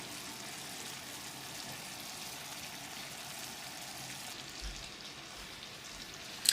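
Hard candy sugar syrup cooking in a pan gives a steady, even sizzling bubble that holds at a moderate level, with a brief louder tap near the end.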